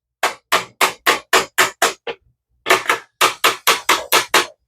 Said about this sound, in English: you just want to come to the side of that black box and give it a few taps